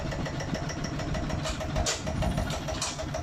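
A Magnum 155 Plus engine fitted to a Kubota NC long-tail boat setup, started and running at a steady idle, fairly close and moderately loud with no talk over it.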